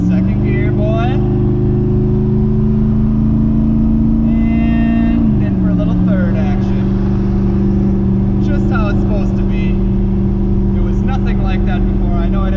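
Twin-turbo daily-driver car accelerating through the gears, a loud, close engine drone that climbs in pitch, drops sharply at a shift, then climbs again, with a voice talking over it.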